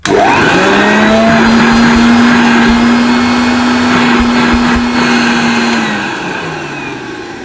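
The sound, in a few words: vintage Hoover Junior 1334A vacuum cleaner running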